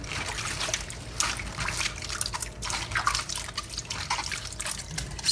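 Tap water runs and splashes steadily over bok choy leaves being washed in a kitchen sink, with close, continuous trickling and dripping and no talk.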